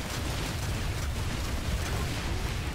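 Rockets and a C4 charge going off in the Planetside 2 shooter game, a dense, loud continuous roar of blast noise with heavy low rumble throughout and no distinct separate booms.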